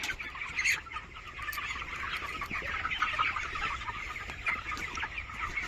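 Young chickens huddled together against the cold in a curtained poultry shed, making a continuous chorus of soft clucking and chirping at close range, with no talk.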